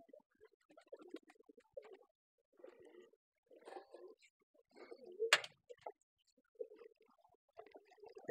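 Pigeons on a pigeon farm coo in soft, throaty phrases, several birds close by with pauses between calls, along with a brief sharp rustle or flap.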